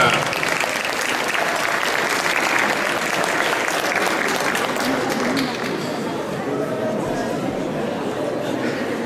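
Audience applause at a cosplay show during Japanantes 2012, a dense burst of clapping and cheering that holds loud for several seconds, then eases slightly while crowd chatter continues.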